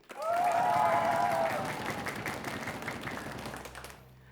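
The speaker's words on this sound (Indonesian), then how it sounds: "Boleh kita dengar tepuk tangan untuk ketiga dewan juri kita pada hari ini." Studio audience at a televised school quiz competition applauds the three judges, a dense burst of clapping that swells quickly, holds, then gradually thins out and fades.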